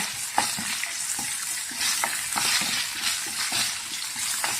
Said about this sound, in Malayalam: ഇങ്ങനെ വഴറ്റിയെടുത്ത വെണ്ടയ്ക്കയുടെ വഴുവഴുത്തലും മാറിക്കിട്ടും